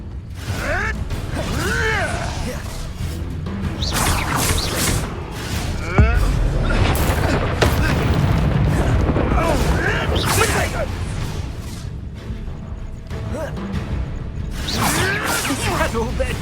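A Confringo fire spell blasts in Hogwarts Legacy amid a duel, with repeated loud bursts, creaks and whooshing impacts layered over game voices and steady background din.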